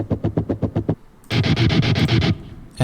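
Distorted electric guitar chugs without the Gojira plugin, from a metal cover of Ultrakill music: a run of seven tight, evenly spaced palm-muted hits, then a short gap and a sustained, loud, fuzzy riff passage.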